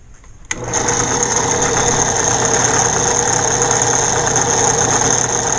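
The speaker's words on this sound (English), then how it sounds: "when I'm doing it on this drill press" A drill press motor clicks on and settles into a loud, steady whine and buzz, running continuously at close range while grinding a boat propeller.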